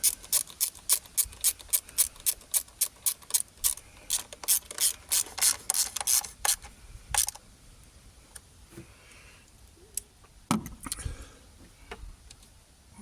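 Rapid ratchet socket wrench clicks working a bolt on a 20-year-old Jaguar 4.0 V8 with brittle plastic parts, loud, close bursts for about seven seconds, then scattered quieter clicks and handling noises.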